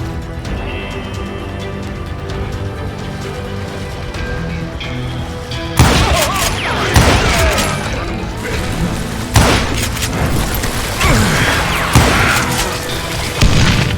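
Gunfire in the Western shooter Call of Juarez: Gunslinger: after a steady background bed, loud bursts of shots and impacts break out from about six seconds on, coming in clustered volleys with short gaps.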